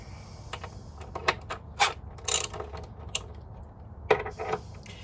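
Bolts being loosened while the front wheel is removed from a Yamaha FJR motorcycle, heard as close, irregular ratcheting clicks and metallic clanks with short pauses between bursts.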